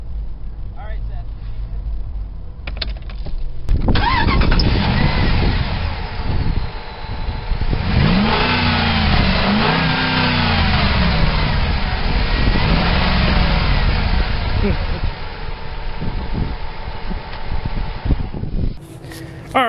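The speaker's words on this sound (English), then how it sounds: "what a great sounding Hemi" 2005 Jeep Grand Cherokee Limited with a Hemi V8 starting up, then rising and falling through several revs before settling, a loud, steady engine roar close by with a voice over it.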